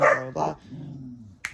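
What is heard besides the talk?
dog barking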